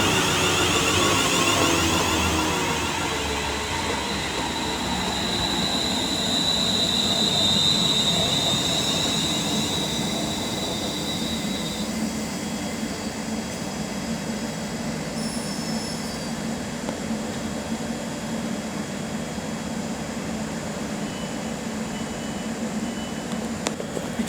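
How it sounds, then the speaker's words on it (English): A London Northwestern Railway Class 350 electric multiple unit at Marston Green on the West Coast Main Line, a steady loud rolling rumble of wheels on track with a high whining tone that fades partway, continuous and close. "now getting ready to depart is the 1601 London Northwestern Railway service to Northampton from Birmingham New Street"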